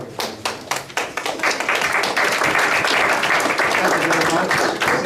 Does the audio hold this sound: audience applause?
yes